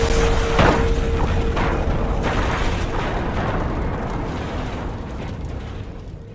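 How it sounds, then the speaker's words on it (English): Combustible wood dust explosion inside an enclosed work area of a wood manufacturing plant, a loud sustained roaring boom with an early sharp burst that slowly fades over several seconds. "A combustible wood dust explosion can occur inside any work area"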